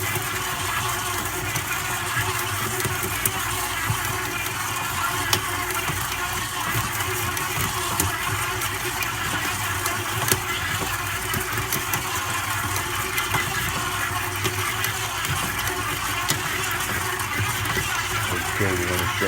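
An electric stand mixer stirs chocolate almond biscotti dough on low speed, a steady whirring motor drone with faint ticking, close and continuous for the whole stretch.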